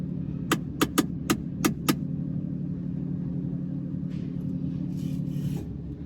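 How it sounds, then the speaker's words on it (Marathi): A car engine idles steadily to warm up after sitting unused for two days following a soaking in rain. A constant low rumble runs throughout, with a few sharp clicks early on and a brief hiss near the end. "ते इंजिन गरम होऊ द्या, त्याच्यानंतरला मग रेस करू"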